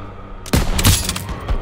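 Gunfire in Call of Duty WWII bursts in loud after a brief quiet stretch, a dense volley of rapid overlapping shots that keeps rolling to the end.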